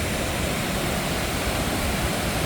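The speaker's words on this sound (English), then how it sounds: "Sandstone Falls is not just one waterfall. It's just a series of drops off the New River." Sandstone Falls, a series of drops on the New River in West Virginia's New River Gorge, gives off a constant, dense rushing roar of falling water, even and unbroken with no voices.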